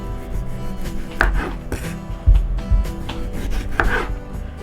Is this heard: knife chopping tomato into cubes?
yes